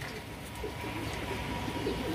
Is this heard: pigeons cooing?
yes